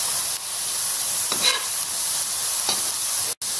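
A spoon stirring caramelized banana with cardamom spice powder in a pan over low flame, a steady close sizzle with a few soft scraping strokes and a brief cut near the end.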